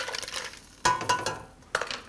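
Mussels being stirred once in a pot with white wine, salt and black pepper, giving a few separate scraping, clinking strokes of shells against the metal pot, close and fairly clear with no talking.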